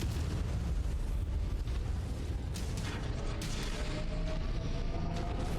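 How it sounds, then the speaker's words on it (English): Heavy artillery shells from Long Tom guns bursting in the mech combat game Mechwarrior 5: Mercenaries, a dense, loud, continuous rumble of blasts and booms with scattered sharper impacts throughout. "Oh, long toms. Gotta watch out for artillery."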